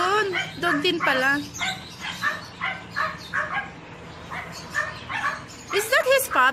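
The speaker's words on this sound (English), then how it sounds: "Oh, that's a dog." A dog in a pet shop gives a few short barks and whimpering yips among several people talking close by, the calls scattered through steady chatter.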